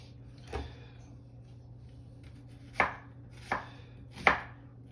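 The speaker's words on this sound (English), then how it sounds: "So I cut my my onion in sort of chunks" A knife chopping an onion into chunks for a Greek salad, four crisp, separate cuts against a board, spaced irregularly over a quiet kitchen hum.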